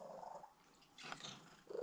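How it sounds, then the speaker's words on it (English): A cat with a throat problem purrs in a low continuous rattling rumble, close but quiet, with a soft breathy swell in the middle and no talking. "she has the loudest purr I've ever heard"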